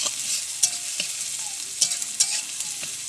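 Ginger and garlic paste sizzles in a pan while being stirred, a steady frying hiss broken by several sharp scrapes and clicks of the spatula, with no one talking.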